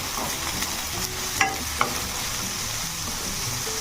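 Potatoes and onions frying together in a pan for an Odia cabbage curry give a steady, even sizzling hiss throughout, with two brief utensil clicks and no talking.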